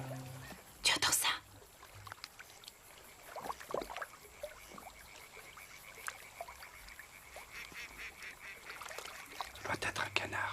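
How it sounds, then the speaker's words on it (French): Faint honking duck calls at night sound in short scattered bursts against a quiet outdoor background, with brief louder noises near the start and end. "Ça doit être un canard."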